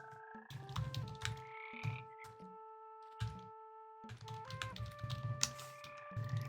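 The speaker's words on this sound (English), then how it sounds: "I love the frog music" Frogs croak repeatedly around steady tonal game music in Minecraft, the croaks scattered and rhythmic at moderate distance with soft clicking between them.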